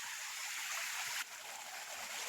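Water flows over rocks in a forest after heavy rain, a steady close rushing wash that drops slightly in brightness midway and carries on without talk.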